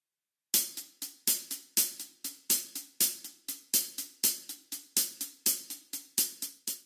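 Drum hi-hat playing a quintuplet shuffle with alternating hands, sharp strokes repeating in a steady five-note cycle where louder right-hand accents alternate with quieter left-hand fills, close and alone.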